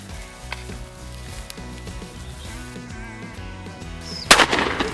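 A single sharp shotgun blast during a quail hunt rings out near the end, standing loud and close over steady low background sound.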